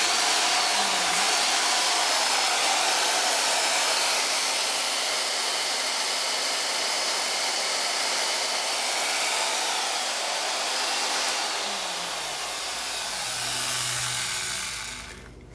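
A small brushed electric motor with its brushes sparking runs continuously with a steady high whirring hum and faint crackle, holding for about fifteen seconds before spinning down, alone without talk.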